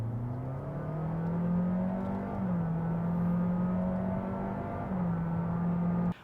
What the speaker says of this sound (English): it makes that roar thanks to the CVT making the engine flare the revs up